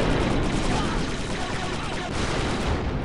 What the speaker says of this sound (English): Why are there all these explosions? Why are there more?